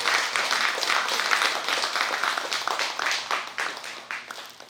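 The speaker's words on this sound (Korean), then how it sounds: "여러분, 스님께 큰 박수 부탁드립니다." An audience at a Buddhist book-launch dharma service applauds for a monk, a dense, sustained wash of many hands clapping that tapers slightly toward the end.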